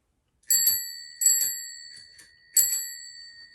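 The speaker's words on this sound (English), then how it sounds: "it has a bicycle bell on it that's been on there since the early 70s" A bicycle bell, on an instrument since the early 1970s, rings three times in bright metallic double dings with ringing decay, close and clear with nothing else audible.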